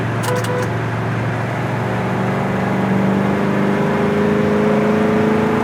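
A 1967 Pontiac GTO pulls hard at highway speed, heard from inside. Its engine drone is loud and steady, with tones that climb slowly as it gains speed, and no one speaks.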